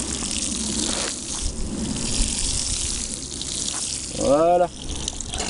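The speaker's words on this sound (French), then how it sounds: "Donc on met la pomme en haut. Et on arrose toujours le long du cordon." Steady pouring spray from a watering can fitted with a rose, sprinkling along a freshly seeded row of winter spinach in a garden, continuous and close, with a short spoken word near the end.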